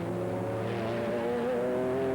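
A race car is overtaken during a 2001 American Le Mans Series race. Engines drone loud and steady, with a tonal whine that rises slightly in pitch as the faster car draws alongside.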